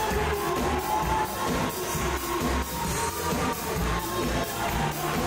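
Wedding reception guests clapping and cheering for the couple, a continuous crowd roar with rhythmic applause at moderate distance.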